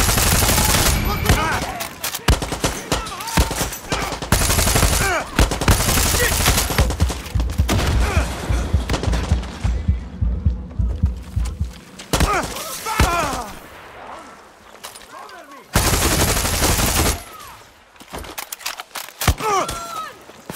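Heavy video game gunfire in rapid automatic bursts and volleys, loud and dense, breaking off into brief quieter gaps before resuming; voices speak in between.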